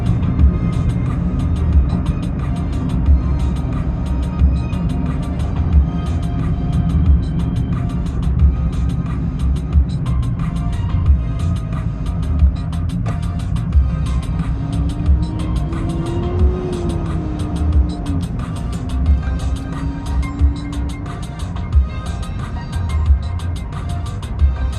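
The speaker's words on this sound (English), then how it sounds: "I just gave it a touch of throttle and it's still accelerating almost" A car cruises on a Southern California road with steady engine and tire rumble throughout, the drone holding even and close, and a faint rising whine drifting in partway through.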